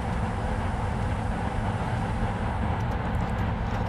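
Steady rumbling roar of a train running on the ECML Edinburgh–Dundee line in Trainz Railroad Simulator 2019, continuous and close with a constant broadband wheel-and-engine drone and no voices.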